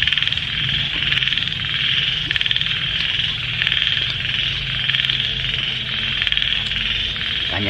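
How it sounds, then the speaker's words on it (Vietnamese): Small frogs croak at night in a forest in Dak Lak, a dense, loud, steady chorus of pulsing calls repeating in rhythmic bursts throughout, with no one speaking. "Cả nhà nghe ít nhái kêu không?"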